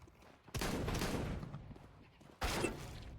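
Gunfire bursts from the Counter-Strike 2 video game, two loud rattling volleys with a short gap between them, close and sharp over a quiet background.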